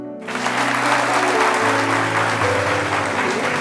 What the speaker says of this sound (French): permettez-nous de marquer le coup et de vous offrir ces applaudissements